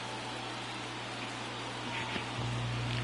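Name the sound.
light rain falling at a ballpark in Los Angeles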